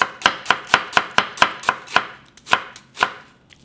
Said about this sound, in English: Cut thinly, diagonally. Onion around 1/4 cup amount.